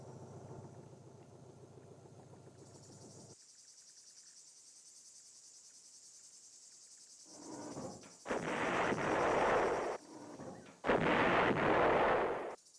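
Two heavy booms from a 130mm field gun on a Vietnam-era battlefield roll out over a steady insect-like hiss, each blast broad and rumbling, the second following a couple of seconds after the first.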